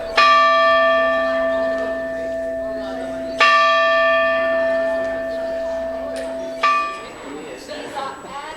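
A church bell in the bell tower of Korčula old town rings loud and near, three ringing strikes each decaying slowly, with a voice talking faintly underneath.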